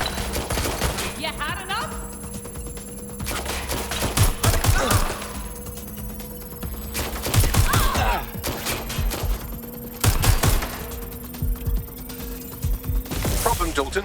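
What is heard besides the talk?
gunfire in the video game Watch Dogs: Legion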